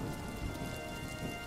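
Steady heavy rain pours alongside rumbling thunder in a dark, stormy night scene, a dense continuous wash of sound with no voices.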